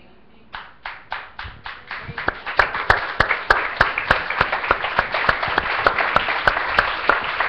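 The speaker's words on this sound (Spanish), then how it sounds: "¿Sabe por qué el aplauso?" Applause from a church congregation during a Spanish-language sermon, starting as a few separate claps and swelling into steady, dense clapping that carries through the rest of the clip.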